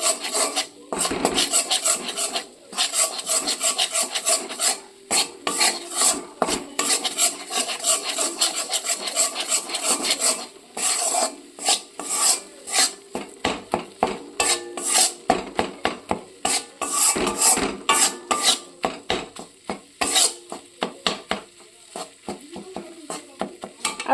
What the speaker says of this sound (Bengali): ময়দা দিয়ে খুব ভালো করে মেশাতে হবে দেখুন সমানে মেশাতে থাকছি